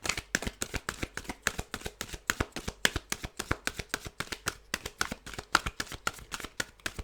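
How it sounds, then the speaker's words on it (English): Tarot cards are shuffled by hand in a quick, steady run of soft riffling slaps, many rapid close strikes repeating over several seconds with no talking. "I'm just going to sort of shuffle through once."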